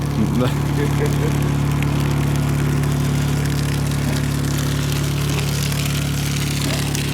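A Honda generator runs steadily at a near, even drone with a strong low hum, holding constant throughout with no talk over it.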